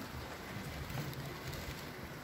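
Steady rain hisses continuously outside on a goat farm in Ontario, a dense even patter with no breaks and no voices.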